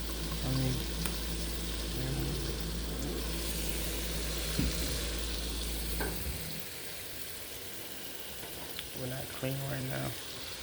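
Red bell peppers cooking in a pan on low-medium heat, a soft continuous sizzle under a person talking, with a low rumble that fades out partway through and a few faint clinks near the end.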